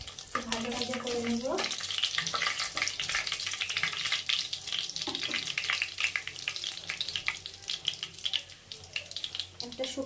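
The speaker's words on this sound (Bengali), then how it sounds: "শুকনো লঙ্কা ফাটিয়ে দিয়ে দিলাম" Whole garam masala spices, bay leaf and dry red chillies crackling in hot goat fat, a loud continuous sizzle with dense popping and spitting close by, opening under a brief voice.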